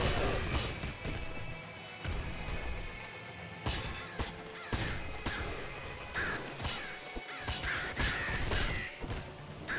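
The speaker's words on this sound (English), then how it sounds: "Goddamn crows." Crows cawing in the video game Nuclear Throne, set in confined alleyways, mixed with repeated crashes and thwacks of gameplay action in a busy, dense soundscape over about ten seconds.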